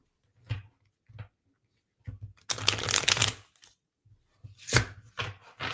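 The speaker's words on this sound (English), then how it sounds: "normal playing card shuffle" A deck of playing cards shuffled and cut by hand in several separate bursts, crisp riffling flutters with short pauses between, close and fairly quiet, no talking.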